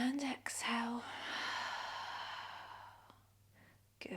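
A long, audible exhale during a gentle yoga session, a soft breathy rush lasting a few seconds after a brief spoken cue, fading out before a small sound at the end.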